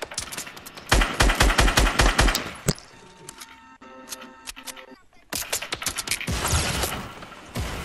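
Enemy players firing on each other in a Fortnite Battle Royale match, with loud rapid bursts of automatic gunfire at the start and again near the end, and quieter scattered shots in between.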